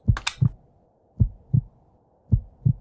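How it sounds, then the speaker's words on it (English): A heartbeat in the video game Clay-Scape thumps as three clear lub-dub pairs at an even, slow pace, loud and close, with a short burst of game noise at the very start. "You've got a heartbeat."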